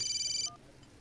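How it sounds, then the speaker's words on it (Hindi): A telephone rings with a short, bright electronic tone, then a brief lower beep follows, faint and close, with no talking. "एक्सक्यूज मी, जरा फोन आ गया।"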